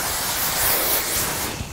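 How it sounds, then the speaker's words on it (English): Hairspray hisses from a can onto hair in one steady spray, close and loud, easing off near the end with no talking. "let's put hairspray on the hair first"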